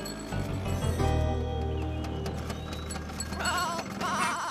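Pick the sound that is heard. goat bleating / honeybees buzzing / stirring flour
goat bleating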